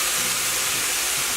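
Steak and vegetable stir-fry with 2-minute noodles sizzling in a hot pan, a steady loud broadband hiss and spatter with no voices.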